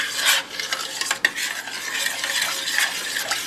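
A spoon stirring a thick sauce slurry of bouillon cubes in a bowl before heating, a close scraping and clinking scrape repeated in uneven strokes, with one sharp tap partway through.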